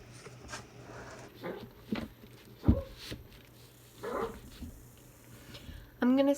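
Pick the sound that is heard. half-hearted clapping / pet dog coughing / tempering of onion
pet dog coughing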